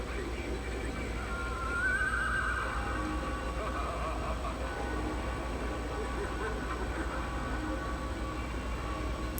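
A plastic Home Depot haunted hearse prop plays a recorded horse neigh, faint and tinny, a single whinny rising above a low steady background hum, with a recorded voice speaking around it.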